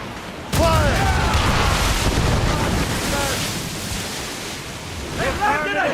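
A loud broadside boom of ship cannon fire in Assassin's Creed Rogue hits sharply, followed by a long rumbling roar over sea and wind, with shouting voices heard early and again near the end.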